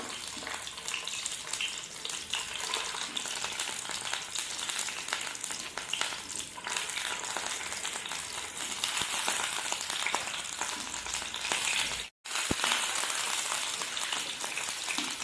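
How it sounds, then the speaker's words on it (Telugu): Eggs frying in hot oil in a pan for egg biryani, a steady, fairly quiet hiss and crackle throughout, with one brief dropout near the end. "గాయస్, ఈ ఫ్రై అవుతున్న ఆయిల్లో ఎగ్స్ వేసుకోండి ఒకదానికి ఒకటి."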